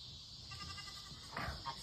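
A goat perched on a house roof lets out a short bleat near the end, over a quiet, still background.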